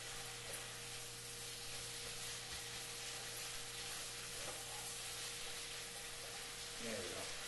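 A stir fry sizzles steadily in a hot pan, a faint continuous crackle and hiss with occasional stirring scrapes, fairly quiet and close.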